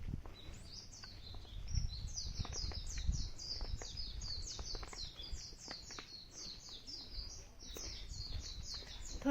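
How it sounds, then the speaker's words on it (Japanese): Birds sing and chirp steadily along a mountain hiking trail behind a temple on Daimonji in Kyoto, a continuous series of quick bright high-pitched calls over low rumbling handling noise and footsteps. "Bird is singing a song. Or the bird is chirping."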